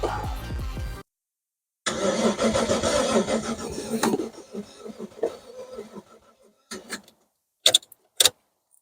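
The starter cranks the engine of a troubled donor car, giving a close burst of mechanical churning. A pause follows, then another longer cranking stretch that fades into scattered knocks and sharp clicks.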